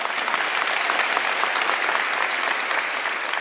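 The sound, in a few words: audience applause at graduation ceremony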